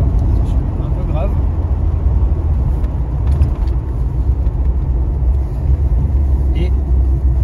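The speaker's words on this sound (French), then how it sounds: "Et le bruit, je sais pas pourquoi ça me fait penser à un 5 cylindres un petit peu" Engine of a 1981 Talbot Sunbeam Lotus rumbling steadily while driving, a deep continuous low drone heard from inside the car, with a person talking over it.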